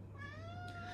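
A cat gives one drawn-out, tonal meow, faint and steady over a low background hum, with no talk.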